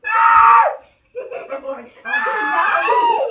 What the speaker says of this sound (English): She's literally over there screaming so hard that she can't even get it out